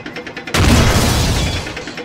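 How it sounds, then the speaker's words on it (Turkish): A tank in the 2D game Tanks 2D fires a small shell: one sharp, loud boom that hits suddenly, then a rumbling crash that fades slowly. "Yani küçük mermi atıyor."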